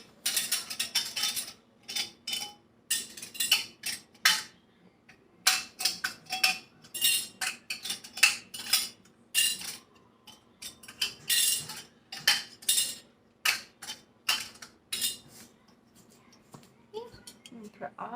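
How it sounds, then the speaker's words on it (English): Lids are set onto glass jars one after another, giving a run of short clinks and taps in an irregular rhythm, close and fairly quiet, with a few spoken words in between. "Put all of the lids on them."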